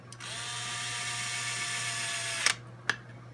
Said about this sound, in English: this little Milwaukee M4 screwdriver worth every dollar